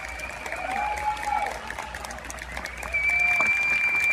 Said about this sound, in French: Pouvez-vous applaudir?